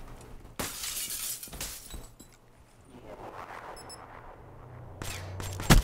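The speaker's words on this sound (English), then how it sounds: "I saw the glass break" Glass shatters loudly in a tense mission-clock video game round, a bright crashing burst followed by tinkling shards, with further impacts and game noise around it and another sharp crash near the end.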